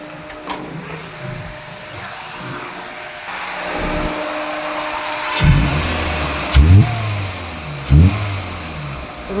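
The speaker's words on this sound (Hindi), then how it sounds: "रुके हुए जगह पे बराबर रेज होता है, थोड़ा मिसिंग है रेजिंग के टाइम पे।" A Hyundai Accent petrol engine idles in a garage, then revs up repeatedly, with a few sharp, uneven bursts that hint at a slight misfire under acceleration.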